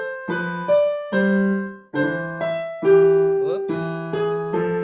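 Piano playing the closing line of Mozart's Minuet K6, a light, evenly paced sequence of clear struck notes and chords with a short pause midway, close and solo.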